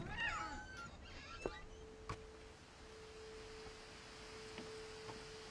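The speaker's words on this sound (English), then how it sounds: "I hear a cat." A single cat meow from the video game What Remains of Edith Finch at the start, followed by a faint steady electronic tone and a few soft clicks against a quiet background.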